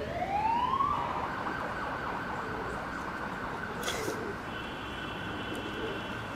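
An ambulance siren in traffic sweeps upward, then holds a steady wailing tone over a constant wash of street noise.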